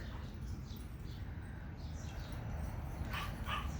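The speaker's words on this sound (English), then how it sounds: "my dogs just got sent out to go to potty, and they're barking right there" Dogs barking outside in a summer garden, a few distant yips and barks in the background over steady outdoor ambience.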